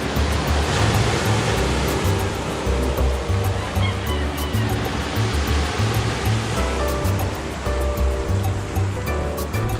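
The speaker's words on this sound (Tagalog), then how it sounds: "ang laki ng mga alon" Large ocean waves surge and break continuously along the Davao City coastal road at Bucana, a loud, steady roar of surf with rolling low swells and no talk.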